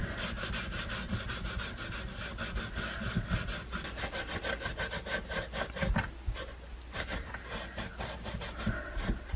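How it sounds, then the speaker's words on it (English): Wood stain being rubbed by hand onto a small wooden farmhouse-style Christmas craft piece, a steady close scrubbing and rasping that repeats in quick, even strokes for the whole stretch with no talk. "So I'm just going to rub that on."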